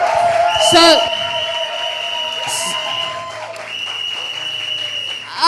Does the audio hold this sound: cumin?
no